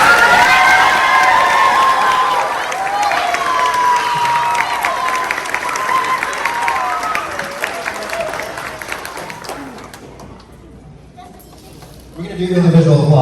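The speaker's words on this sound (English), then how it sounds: "So let's give our teachers a round of applause." Children and adults in a school audience applaud and cheer for the teachers, loud sustained clapping with shouts and high voices for about ten seconds, dropping to quiet before a speaking voice returns.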